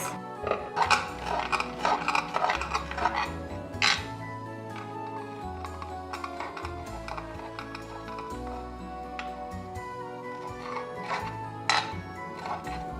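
A knife chops basil and parsley into small pieces on a board, with quick, light rhythmic taps running under steady background music.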